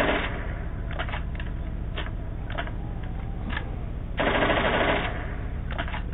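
Rapid-fire gunfire from a programmable Xbox 360 rapid-fire controller in Call of Duty 5 single player, a dense continuous stream of shots with periodic sharper bursts, loud and close.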